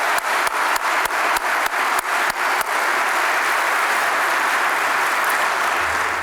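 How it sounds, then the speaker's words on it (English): Audience applause at a lecture series event, steady dense clapping from a seated crowd, with a few sharp louder claps standing out near the start, lasting about six seconds. "So I think we owe them a round of applause."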